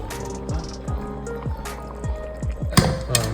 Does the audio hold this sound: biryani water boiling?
yes